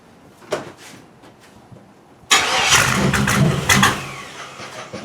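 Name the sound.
1976 Chevrolet Malibu engine cranking without fuel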